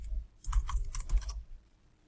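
A computer keyboard clicks through a quick burst of a dozen or so keystrokes as a folder name is entered, close and crisp, then trails into quiet room tone.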